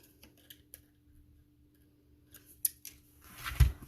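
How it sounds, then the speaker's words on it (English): Scissors snipping through a piece of paper while making cards, giving a few faint, sparse clicks and snips and then a louder cut with a rustle of paper, close and quiet with no talk. "going to have to cut another piece of paper"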